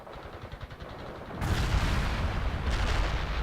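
Rocket launcher fire and explosions in the video game World in Conflict: quiet rattling battle noise gives way to a sudden loud, sustained roar of blasts and gunfire that stays heavy to the end.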